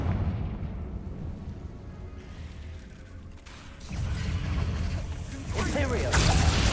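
Fiery Confringo spell blasts in the Hogwarts Legacy game, a rumbling explosive burst that swells near the end over a continuous low roar of combat noise.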